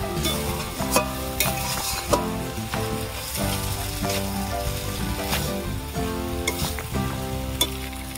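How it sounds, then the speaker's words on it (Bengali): Vermicelli simmering with milk in a pan, a steady bubbling sizzle under repeated scraping and stirring strokes, close and continuous with no talk. "এইভাবে আমি অল্প অল্প দুধ দেবো, নাড়তে থাকবো।"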